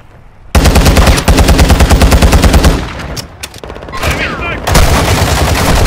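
Loud automatic gunfire in a tactical video game, a long evenly paced burst of close shots, a short choppy pause with scattered rounds, then another sustained volley; faint radio-style voices sit beneath.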